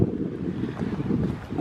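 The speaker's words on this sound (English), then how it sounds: "Nice breeze out here, guys." Sea breeze blows across an ocean fishing pier by the beach, a gusty low rush buffeting the microphone in uneven waves over a short stretch.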